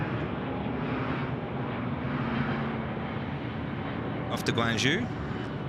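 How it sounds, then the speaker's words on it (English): China Southern airliner getting airborne at night from Sydney Airport, bound for Guangzhou, a steady broad jet roar throughout, with someone speaking briefly over it near the end. "Now we're looking at China Southern getting airborne."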